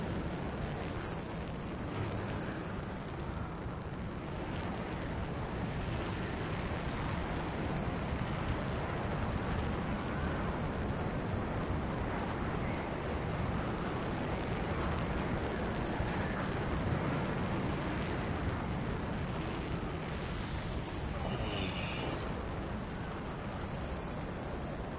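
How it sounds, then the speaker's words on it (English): Roaring waterfalls in the video game Anthem, a dense, constant rushing wash of water noise that carries on unbroken throughout, with no speech. "Cool off by the steam of the waterfalls."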